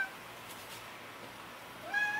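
A pet cat meows briefly near the end of a quiet indoor moment, a short, fairly close call rising out of low room noise.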